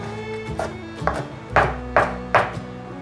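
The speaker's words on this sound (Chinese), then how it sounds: "把红甜椒切碎" A knife chops a red bell pepper on a cutting board, five or six sharp, crisp strikes at a steady pace, close up, over faint background music.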